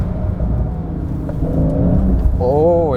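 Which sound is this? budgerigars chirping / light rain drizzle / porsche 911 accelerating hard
porsche 911 accelerating hard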